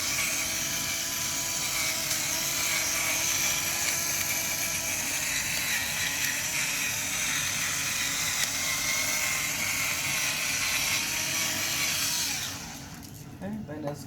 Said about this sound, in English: Now I do with my pepper grinder